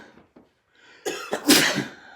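A woman gives a short, harsh cough, a burst of two or three hacks close by after a quiet moment.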